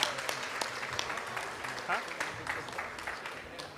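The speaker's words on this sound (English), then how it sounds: "Can we give a big round of applause for..." Audience clapping at a Sunday feast to thank the cooks, scattered hand claps at moderate volume with voices talking over them.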